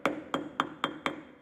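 Five sharp, evenly spaced metal hammer blows ring out close by while a part is driven into place on a 1967 John Deere tractor, each strike followed by a brief decay.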